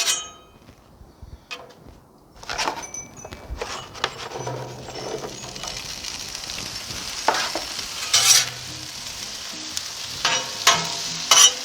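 Potatoes fry in oil on a Blackstone 28-inch griddle, sizzling steadily while a spatula taps and scrapes at irregular intervals, with louder bursts as more oil hits the hot surface.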